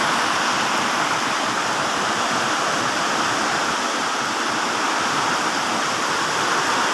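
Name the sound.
heavy torrential rain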